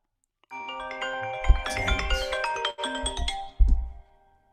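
A phone ringtone rings out during a live weekly football fan show broadcast, a bright repeating melodic tone sounding for a few seconds, cutting off briefly and then returning in a short final burst before fading.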